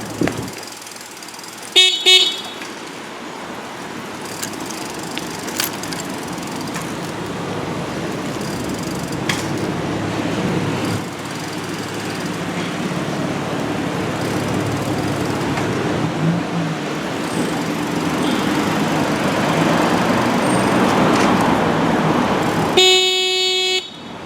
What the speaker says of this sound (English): this was a review of the rechargeable bicycle horn